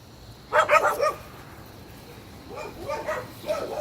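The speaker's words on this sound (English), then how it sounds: "That's my wiener dog." A dachshund barks in a short burst of sharp yaps, then a few more softer barks after a pause, near and with no talking.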